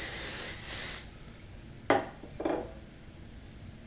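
Hairspray hisses in a sustained burst onto hair, followed after a pause by two shorter spritzes, close and clear in a quiet room.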